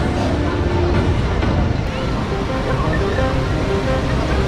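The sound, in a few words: water fountain show at KLCC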